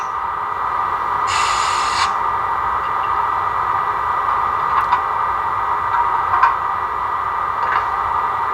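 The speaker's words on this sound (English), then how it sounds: "Coupling, uncoupling." Model train sound module producing a coupling and uncoupling effect: a short hissing burst early on, then several faint metallic clicks and clanks over a low steady hiss.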